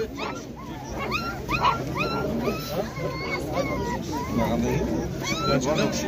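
Puppies at a dog market in Shymkent yelp, whimper and bark in rapid overlapping bursts close by, with crowd babble and talk running underneath throughout.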